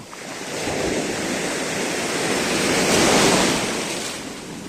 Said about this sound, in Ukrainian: Величезна хвиля.